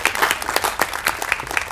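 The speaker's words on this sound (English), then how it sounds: "Round of applause." Audience at the Whiz Bang Days 2017 ambassador coronation clapping for the ambassadors, a smaller crowd whose individual hand claps stand out sharply in an uneven, fairly close patter.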